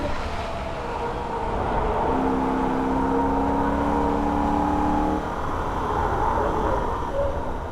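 A Holden VF Ute on a Nürburgring lap, with a constant loud in-car engine drone that rises into a steady higher-pitched whine under acceleration for a few seconds before easing back, and no voices.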